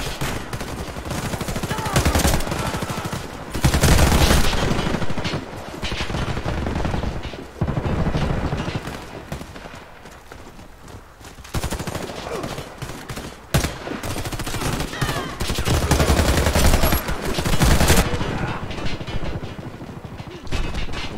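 Rapid gunfire from a video game crackles in repeated bursts and volleys, loud and dense, with intermittent booms layered in, running continuously with no pauses.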